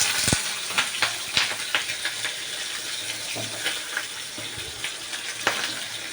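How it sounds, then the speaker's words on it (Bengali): Washed potatoes fry lightly in hot oil in a home kitchen, giving a continuous loud sizzle with frequent sharp pops and spatters close by. "কি তেল ছিটছে গো!"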